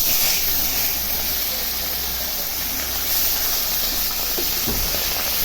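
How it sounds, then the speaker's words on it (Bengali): Steady, dense hiss of fish frying in hot oil in a kadai, loud and continuous throughout with a low hum underneath. "মাছগুলো এখন ভেজে নেব।"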